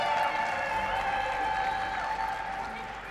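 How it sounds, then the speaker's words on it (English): Audience applauding a competitor at the 2022 US Barista Championship finals, a moderate, even wash of clapping over a steady tonal background hum, fairly soft and continuous. "Let's give her a round of applause."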